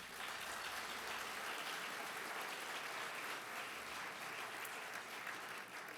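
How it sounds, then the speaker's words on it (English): A healthcare awards event audience gives its honorees another round of applause, a dense, even wash of many hands clapping from a large crowd, heard at a distance and sustained throughout. "Let's give them all one more round of applause."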